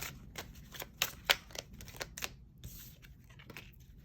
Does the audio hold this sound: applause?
no